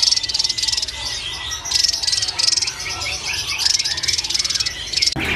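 A Javan tesia, a small songbird, calls in repeated high, thin bursts of rapid chirps, fairly close and clear, with an insect-like buzz underneath and short pauses between phrases.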